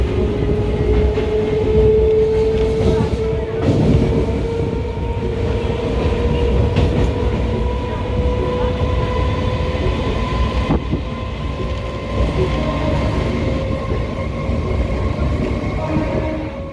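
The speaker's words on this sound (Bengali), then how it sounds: "দেখো, নৈহাটি ছেড়ে আমাদের ট্রেন এখন পেরিয়ে যাচ্ছে।" A train pulling out of Naihati station rolls steadily along the line, heard close from on board, with a continuous rumble, wheel noise and a sustained high whine that slowly falls in pitch.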